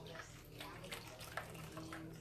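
Marinade poured over a pork roast makes a soft, continuous splashing trickle, faint and close, with someone talking over it.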